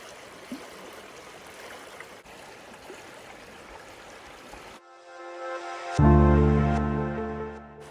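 The Uzh river flows through the Carpathian village of Dubrynychi in the Uzh valley of Zakarpattia, a steady broadband rush of water for about five seconds before a loud, sustained tonal sound abruptly takes over.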